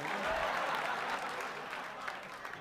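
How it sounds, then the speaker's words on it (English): Audience applause at a live stand-up comedy show, a brief burst of many people clapping that holds steady and then thins slightly, with a voice talking faintly over it. "Keep clapping."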